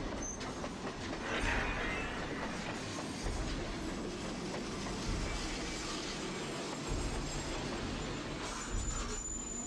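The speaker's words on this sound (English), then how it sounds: "what it would be like if a school bus were to suddenly stall on the train tracks in front of an oncoming train" A train rushing along the tracks toward a school bus stalled across the crossing, with steady loud rumbling and rhythmic wheel clatter sustained throughout, no voices.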